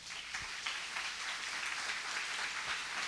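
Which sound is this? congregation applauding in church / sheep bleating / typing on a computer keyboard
congregation applauding in church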